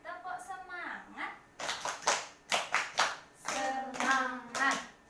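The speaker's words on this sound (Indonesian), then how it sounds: "Kita tepuk semangat ya." A group doing the Indonesian 'tepuk semangat' cheer, sharp rhythmic hand claps in short patterned bursts alternating with voices chanting along, close and lively.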